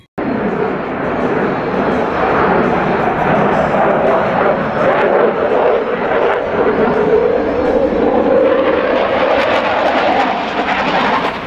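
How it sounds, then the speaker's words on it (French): Dassault Rafale multirole fighter jet flying, a loud, steady broadband engine roar that holds for the whole stretch and swells slightly near the end, with speech audible over it. "Le Rafale est un avion de toute dernière génération qui a la particularité d'être complètement polyvalent"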